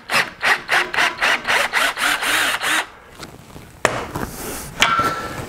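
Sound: drill bit drilling through a tapped M10 thread

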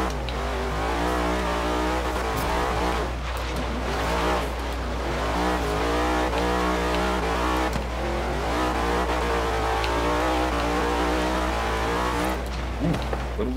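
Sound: truck racing up a mountain in Forza Horizon 3 video game

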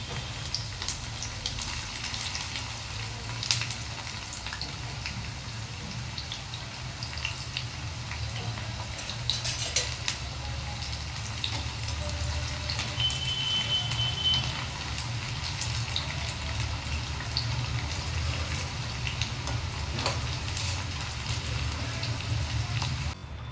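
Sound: okra slices frying in hot oil

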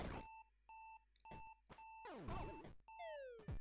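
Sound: beeping alarm in a video game

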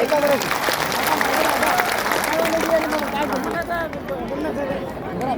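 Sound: crowd applauding at a rally

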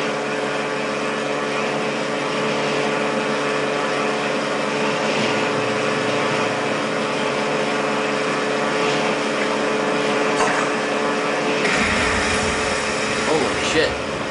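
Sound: barge engine while driving, from the video game Far Cry 2

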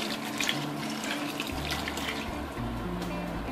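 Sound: pouring hot water with dissolved stock cube into a pan

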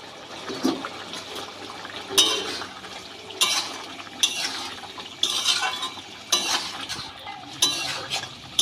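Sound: stirring fried chana dal fritters with boiled potatoes

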